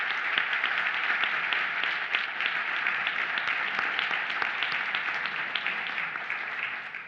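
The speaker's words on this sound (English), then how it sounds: "please give them a round of applause" An audience at a European science diplomacy conference claps for panel speakers, giving dense, sustained applause that stays loud and even for the full seven seconds.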